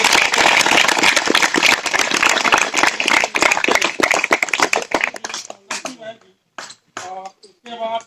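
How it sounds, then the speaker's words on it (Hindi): Dense, sustained audience applause at the closing ceremony of a village procession in Bijauri, Katni, loud for about five seconds before fading into someone speaking over a PA. "तो मेरे ख्याल से तालियों की गड़गड़ाहट चलती रहे।"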